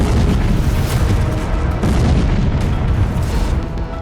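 A Russian T-72B tank exploding in a forest after a drone grenade strike, heard as a loud, sustained roaring boom with rumbling low end and no let-up across the whole stretch.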